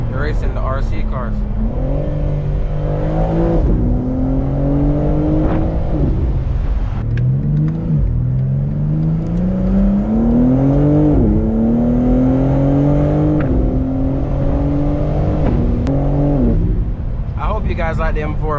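A 2022 BMW M4 Competition engine revs through gears while driven at night, repeated rising pitch sweeps with brief drops between shifts, close and loud, with a voice talking over parts of it.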